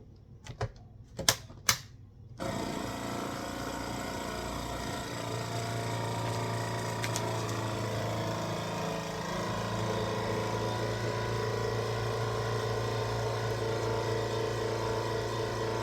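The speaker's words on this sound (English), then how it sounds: "so we can create a good seal when we go to vacuum seal it." A vacuum sealer sealing a bag of brined pork chops: a few sharp clicks, then a steady, loud mechanical pump whir that drones on unchanged to the end.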